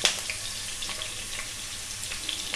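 Mutton keema balls fry in hot oil in a pan, a steady close sizzle and crackle with small pops scattered throughout.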